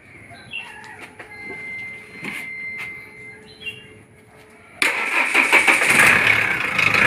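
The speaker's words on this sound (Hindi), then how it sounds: "गाड़ी स्टार्ट करो" A Mahindra Scorpio M Hawk diesel engine, freshly fitted with a new high-pressure pump, cranks briefly after some quiet clicks and then catches, settling into a loud, steady idle close by.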